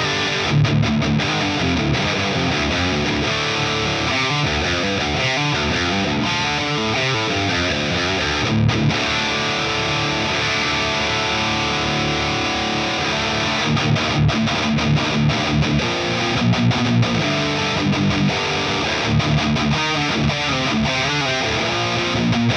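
Electric guitar plays through a 5150 amp simulation with stock Dynacabs and a touch of studio reverb, giving a heavily distorted, dense high-gain tone with chugging riffs that carry on steadily and loudly throughout.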